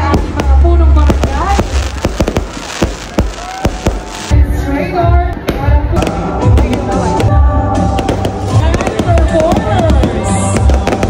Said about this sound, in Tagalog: atin munang pakinggan ang tunog ng mga fireworks